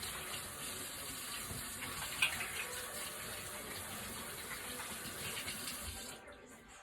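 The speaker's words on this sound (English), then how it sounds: "Let me rinse my hands off a little bit here." Tap water runs steadily into a kitchen sink as hands are rinsed under it, a soft continuous splash with a small clatter partway through, ending as the flow cuts off near the close.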